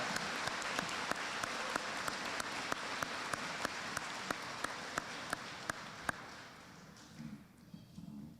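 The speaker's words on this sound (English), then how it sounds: "How about one more round of applause for both our band and choir?" Applause for a school band and choir at a middle school Veterans Day program: a crowd of hands clapping in a full, even wash with a few sharp nearby claps standing out, fading away over the last two seconds.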